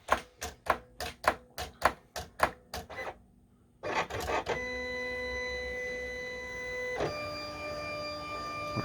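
Silhouette cutting machine cutting out sticker designs at speed 6: a quick run of about ten sharp mechanical ticks, a short pause, then a steady motor whine as the blade carriage travels, close and clear.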